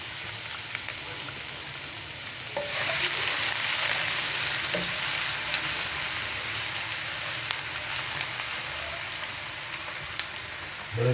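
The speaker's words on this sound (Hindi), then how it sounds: "घी मेल्ट होता है तो मैं इसमें अदरक लहसुन का जो मैंने चॉप किया हुआ है, ये देखें, ये मैं इसमें ऐड करूँगा।" Chopped ginger and garlic sautéing in melted ghee give a steady, close sizzle, rising sharply louder a few seconds in as the aromatics hit the fat, with occasional light clinks of a stirring utensil.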